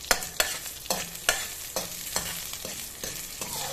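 Mustard seeds and lentils fry in hot oil for a bottle gourd and moong dal dish, a sizzling crackle punctuated by about nine sharp rhythmic scrapes of a spoon stirring against the pan, no voices.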